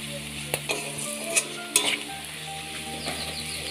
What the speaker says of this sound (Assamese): তাৰপিছত ধুনীয়াকৈ পুনৰ এইখিনি লৰাই ভাজি আছোঁ।